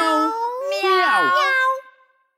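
Voices in a French children's song imitate a cat meowing, sung as drawn-out, sliding mews with a high, childlike tone, fading to silence at the end.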